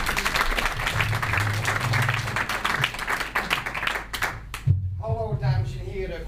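A cabaret audience applauds with dense, sustained clapping that fades out, followed by a voice beginning to speak.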